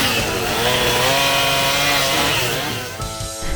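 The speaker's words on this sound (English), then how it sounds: "The inaugural event featured chainsaw carvers from all over the country" A chainsaw carves wood at a chainsaw carving event raising money for a fire department, its engine whining steadily and loud up close before the revs drop off near the end.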